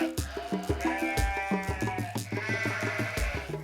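Goats on a farm bleat in quick repeated cries, several animals calling over one another loudly and close by, with no talk.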